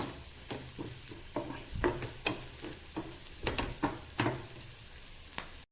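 Sliced onions sizzle steadily in a pan after salt goes in as they soften toward brown, with a spoon scraping and stirring in repeated close bursts over the constant frying hiss.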